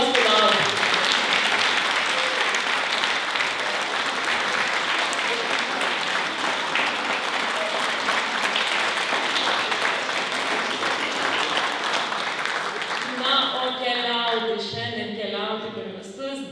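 An audience applauds at the Rokiškis regional museum's 90th anniversary celebration, with dense, sustained clapping from a large crowd that continues for many seconds before thinning out as a voice begins speaking near the end.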